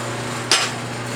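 A single sharp hammer blow rings out on hot steel at a blacksmith's forge, a bright metallic strike over a steady background hum.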